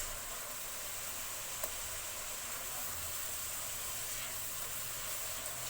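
Onions, green chilies and ginger-garlic paste frying in hot oil give a steady, even sizzling hiss that holds unbroken throughout, with no talking.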